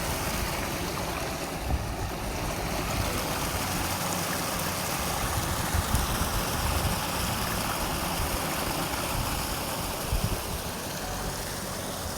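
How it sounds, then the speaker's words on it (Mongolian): Steady rushing stream water flows continuously near Benbulben, Ireland, a broad wash of noise with no pauses or voices, close and fairly loud throughout. "Тэглээ усны чимээ сонсцгоё."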